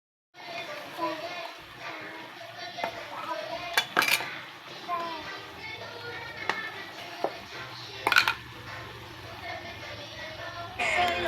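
Chicken curry gets stirred in a pot with a utensil, giving a run of metallic clinks and scrapes in an irregular rhythm close by. Someone talks and children play in the background.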